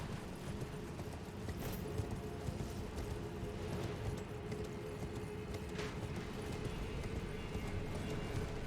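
Hooves clip-clop at a gallop as a horse sprints in Elden Ring, a fast continuous patter mixed with game noise at low level, no voices.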